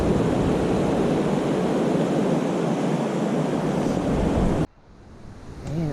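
Steady, full rushing water from a river running beside a hiking trail, close and continuous, ending in an abrupt cut to quieter ambience.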